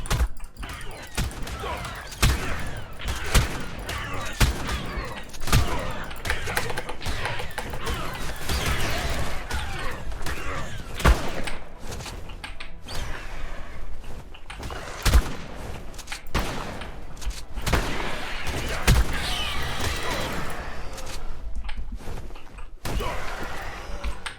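Gunfire from guns in ARK: Genesis Part 2 rings out as repeated loud, close shots, firing in irregular bursts without letup for over twenty seconds.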